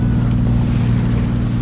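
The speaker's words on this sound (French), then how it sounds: "le vent est totalement tombé, on est au moteur" A sailboat motoring under its engine on the calm Mediterranean gives off a loud, steady, low diesel drone with a faint hiss of water and air around it.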